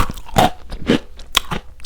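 Several crisp crunchy bites and chews on a thin matcha cookie, close and clear, with short pauses between crunches.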